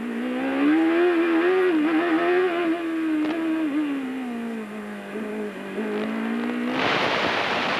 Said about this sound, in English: Listening to the car work there.